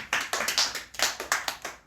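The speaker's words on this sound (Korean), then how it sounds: "박수 한번 칩시다" A small congregation at a church youth service claps in a brief, loose rhythm, about ten distinct sharp claps close by, each one crisp and separate, with no voices over them.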